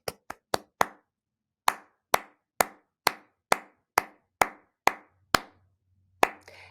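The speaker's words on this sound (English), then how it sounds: "I'd have the kids clap back what they heard." Kids in a music class clap back a rhythm in unison: sharp, distinct claps in a patterned sequence with short pauses between groups, close and clear in an otherwise quiet room.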